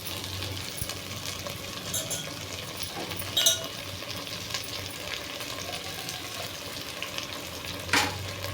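Tomato pieces fry in a pan for coconut tomato chutney, giving a steady low sizzle with occasional light clinks of a utensil against the pan.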